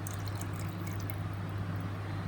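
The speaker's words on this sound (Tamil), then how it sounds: "இதை ஒரு பேனில் இப்போது நம்ம ஊற்றிட்டு போகிறோம்." Strained tomato extract for tomato soup is poured into a pan, giving a steady, close liquid pour with no talk over it for a couple of seconds.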